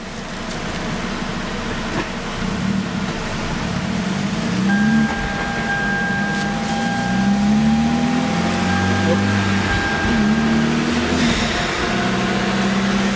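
A car engine runs on a dyno in fourth gear, a steady loud drone with its pitch slowly rising and falling as it revs, while a person talks over it.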